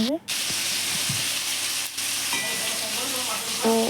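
Potatoes and tomatoes fry in a pan for a fish curry while being stirred: a continuous loud sizzle and hiss with scrapes of the spoon, one short dip near the start and a faint tonal sound at the end.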